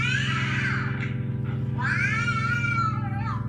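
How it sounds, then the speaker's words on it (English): A wildcat hissing and yowling: two long, drawn-out wavering cat cries with a harsh edge, heard close over a steady low hum, with no speech. "she turned Tam Linn into a hissing wildcat"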